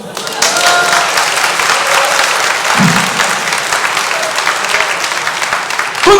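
Sustained applause from a large church congregation during a sermon, steady and dense clapping throughout with a few louder claps near the end.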